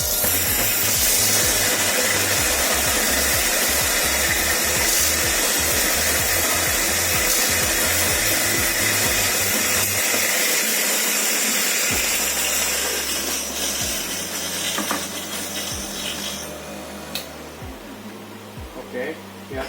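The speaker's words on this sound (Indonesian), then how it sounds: "lalu kita siapin mesin espressonya" An espresso machine runs with a loud, steady hissing and rushing roar while preparing espresso for an Americano, pulsing low hum beneath, fading somewhat toward the end as a person talks over it.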